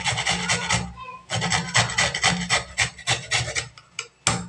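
Peeled carrots are rubbed against a metal grater in quick rasping strokes, a close, rhythmic scratching of repeated bursts with brief pauses between them.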